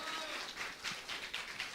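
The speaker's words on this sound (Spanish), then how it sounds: "recibámoslo con un aplauso, por favor" A congregation of believers applauds to welcome the author of a book on Job, a soft, distant patter of scattered clapping that swells in uneven bursts.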